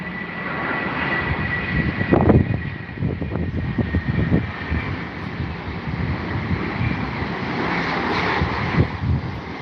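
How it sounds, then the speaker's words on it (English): A large jet airliner landing at London Heathrow, its engines giving a loud, sustained roar that swells and rumbles close by, with wind buffeting the microphone and no talk. "What an aircraft."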